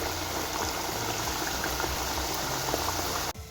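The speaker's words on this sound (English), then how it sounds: "Just gently be brave and gently put the potatoes into the oil" Potatoes for homemade French fries sizzling and bubbling in hot oil, a steady dense crackle that carries on evenly and close up, then cuts off abruptly near the end.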